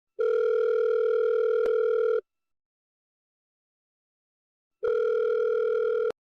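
Steady telephone dial tone heard while a call is being placed, sounding as two loud continuous bursts separated by a silent gap, with a faint click at the end of each burst.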